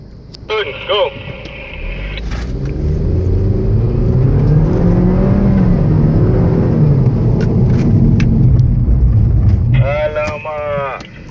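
A BMW accelerates through cones at a performance driving clinic, its engine rising and swelling in a loud revving pass with brief voices and chirps at the start and end.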